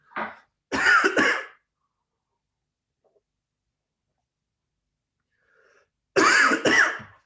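Two separate bursts of coughing, a short pair at the start and another pair several seconds later, loud and close, with silence between.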